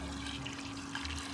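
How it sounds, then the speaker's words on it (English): Water poured into a homemade volcano model, a steady broadband splashing and trickling pour that runs unbroken and fairly close for its short length, with no talk over it. "Now we're gonna put water and check if this works."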